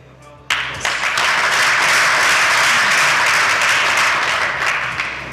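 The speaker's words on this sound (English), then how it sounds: "So let's please give him a round of applause." Audience applause breaks out suddenly after a brief quieter moment, a dense, loud wash of clapping hands that holds steady for several seconds before easing slightly near the end.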